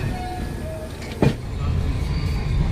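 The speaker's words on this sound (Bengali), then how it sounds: "আর আমাদের ট্রেনটি মালদা টাউন থেকে রওনা দিল এনজিপির উদ্দেশ্যে" The 12343 Darjeeling Mail pulling out of Malda Town station, a low rumbling train hum that swells after a brief metallic clank, with a faint tone in the background.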